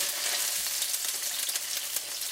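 Garlic and ginger frying in a pan for a healthy Filipino adobo, a close, steady sizzle with soft scraping as the mix is stirred, and no one talking.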